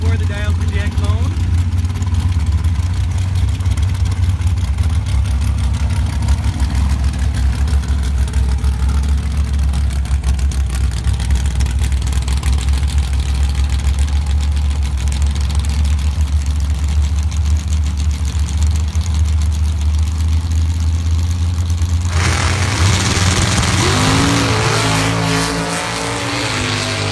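Drag racing engines, a green Jeep and a small-block Chevy power buggy, rumble heavily and steadily at the start line, then roar louder and brighter near the end, with an announcer's voice over them.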